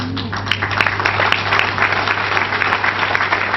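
Applause from an audience at a business presentation in Jaipur, a steady patter of many hands clapping under a constant low hum, sustained for several seconds.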